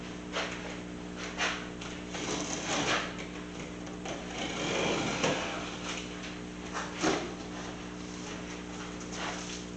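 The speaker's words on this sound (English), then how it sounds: "But anyway, let's get this box open." Cardboard packaging of an Abestorm DecDust 1350IG dust extractor is opened, with scattered rustles, taps and flaps over a steady background hum.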